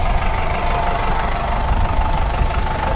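Deutz-Fahr Agrolux 80 HP tractor engine running steadily up close, a loud continuous low diesel rumble with knocking texture and no speech.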